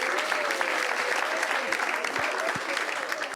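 An audience in a French television studio applauds steadily, a dense wash of clapping from a crowd throughout, with faint voices mixed in.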